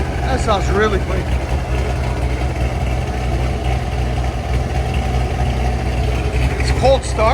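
A brand-new V8 in a 1969 Chevy Corvette, fitted with headers and a Borla Atak exhaust, holds a cold-start idle in a constant heavy burble, with brief voices over the rumble.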